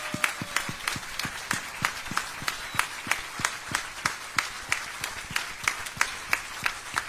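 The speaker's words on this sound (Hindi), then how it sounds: "एक बार जोरदार तालियां होनी चाहिए खड़े होके।" Standing audience at a Nagpur book-release event for a complete Ramayana clapping in a steady, rhythmic unison beat, loud and continuous throughout with no voices over it.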